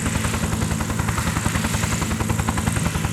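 A military helicopter with a TOW missile system flies nearby, its rotor beating in a fast, steady rhythm over a loud continuous engine roar.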